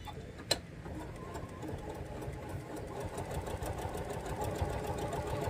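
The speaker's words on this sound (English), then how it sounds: "we are going to sew right on them." Sewing machine stitching fabric for a table runner along traced lines, a steady fast mechanical whirr with a rapid ticking needle rhythm running throughout after a brief sharp click at the start.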